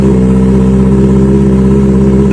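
Kawasaki ZX-4RR motorcycle with a new, long aftermarket exhaust muffler, engine running loud and close at a steady high idle, a dense even drone with a slight rise at the very end.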